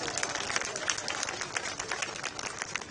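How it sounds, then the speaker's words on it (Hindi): Faint crowd applause at a political campaign rally in Ludhiana, a dense patter of many hands heard from a distance and continuing steadily. "बजाओ जोरदार तालियां।"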